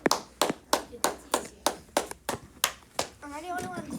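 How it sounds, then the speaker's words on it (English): A single person claps steadily about ten times at an even, brisk rhythm in a classroom, the claps close and crisp, ending as a voice begins to speak. "Am I the only one clapping?"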